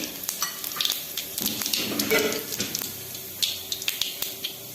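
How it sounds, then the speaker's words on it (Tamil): Mustard seeds and lentils sizzle and crackle in hot oil in a kadai, with scattered popping and stirring sounds in a steady, close frying hiss. "கடாயில் ரெண்டு ஸ்பூன் எண்ணெய் ஊற்றிருக்குங்க அதில் கடுகு கால் ஸ்பூன் உளுந்து கால் ஸ்பூன்"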